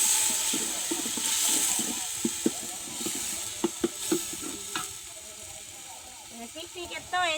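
Spices tempering in oil for a potato dal cooked for a picnic, a sizzling hiss broken by sharp clicks and scrapes of stirring, with people talking nearby.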